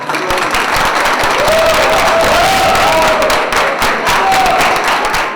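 Graduates applaud steadily in an event hall, a dense, loud wash of clapping that continues unbroken throughout, with faint crowd voices and a thin whistle-like tone drifting through.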